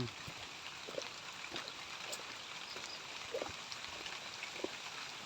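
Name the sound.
rain falling near a mango orchard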